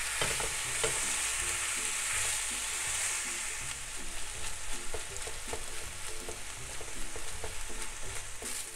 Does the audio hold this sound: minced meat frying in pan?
yes